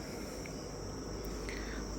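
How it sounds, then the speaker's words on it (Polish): Cicadas in a jungle near a mountain cabin make a continuous high, shrill buzz that holds steady throughout, with a few faint short chirps over a soft background wash. "Tu są cykady."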